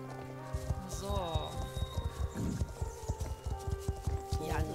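A horse in the online riding game Star Stable clops along with rhythmic hoofbeats and lets out a whinny, set against layered game music, while a person talks over it.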